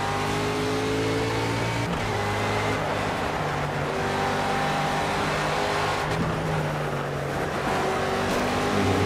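An Aston Martin GTE race car in Project Cars on the Mojave Cougar Ridge track holds a loud, sustained engine whine that shifts pitch as it accelerates and downshifts, with no talk.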